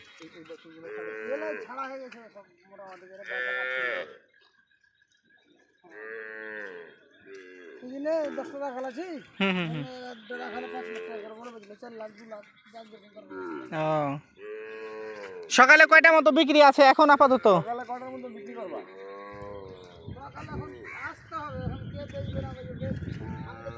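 Cattle moo at a riverbank cattle market on a Padma char near the India–Bangladesh border, drawn-out calls coming one after another, with people talking among them and a burst of commotion midway.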